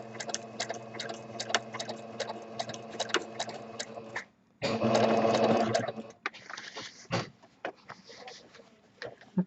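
A sewing machine doing free motion stitching on a quilt, running in steady rapid bursts of needle ticking with short pauses, one louder stretch of continuous whirring, then quieter intermittent stitching.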